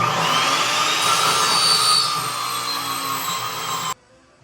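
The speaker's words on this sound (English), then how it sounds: "Even though this is a relatively brand new blade, it's not cutting this hardwood." A power saw fitted with a fairly new blade whines steadily as it struggles through hardwood, a loud, close, high-pitched grinding drone that cuts off abruptly near the end.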